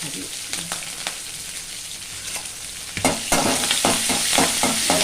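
Urad dal, dried and green chillies and garlic fry in a pan for a South Indian okra stir-fry, giving a steady sizzle and crackle that grows louder partway through, with sharp stirring scrapes repeating near the end.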